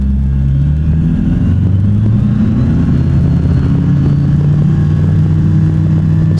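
A light aircraft engine drones loud and close during the takeoff roll on runway 05 at Caloundra, its steady low rumble rising slightly in pitch as power builds.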